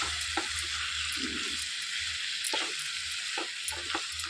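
Spices being stirred into a drumstick masala curry, with a steady soft sizzle of frying in the pan and faint scraping strokes of the spoon now and then.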